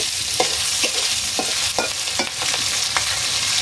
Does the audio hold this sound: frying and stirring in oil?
yes